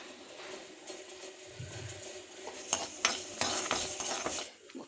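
Urad dal, cumin, fenugreek, coriander seeds and dried red chillies dry-roasting in a pan, quiet rustling and scraping as a spoon stirs them, with a few light metallic clinks, no talking.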